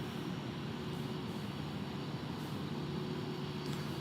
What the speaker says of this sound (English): So our touch and go is complete.